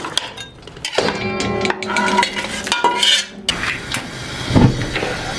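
Pieces of mutton being moved into a karahi wok, with metal utensils clinking and scraping against the pan, close and fairly loud in uneven bursts over a few seconds.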